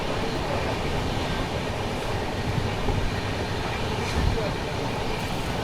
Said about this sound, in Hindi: स्मोक उड़ाता हुआ जा रहा है अपना डीजल लोकोमोटिव